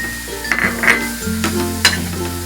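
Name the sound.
stirring modak filling with dry fruits in a pan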